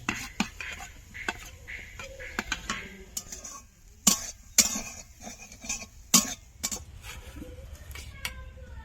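Grated coconut goes into a hot wok as the filling for kadam puli pitha is started, bringing close metallic clinks, scrapes and clatter of a utensil against the pan in uneven bursts over a low kitchen background.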